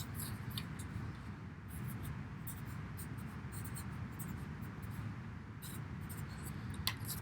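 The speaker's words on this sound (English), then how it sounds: "Let me write it down again." A pen or marker scratches across a writing surface as the Pythagorean theorem is written out, with a steady faint rustle and small irregular strokes running alone and unbroken under a low background hiss.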